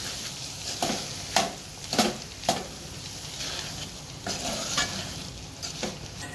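A spatula stirs green mung bean curry in a pan, making several distinct scraping strokes over a low, steady frying hiss at close range.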